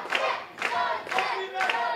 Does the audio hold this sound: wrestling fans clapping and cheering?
yes